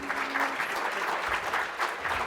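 Steady applause from an audience at the 2024 AFP Chicago Philanthropy Awards, a dense, even wash of many hands clapping that fills the whole moment with no voices over it.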